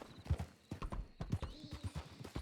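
Hooves clip-clop in an uneven trot while a horse whinnies in a Red Dead roleplay video game, the steps close and distinct with a brief neigh among them.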